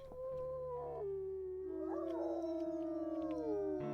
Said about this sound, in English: Sounds like our pack is howling, checking in with us.